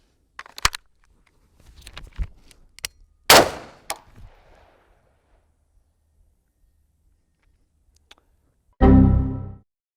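An M193 brass-cased 5.56 rifle round, fired from a 16-inch barrel, strikes a ceramic body armor plate. Sharp metallic clangs and cracks ring out amid quiet stretches, and a final burst of broadband noise closes the sequence.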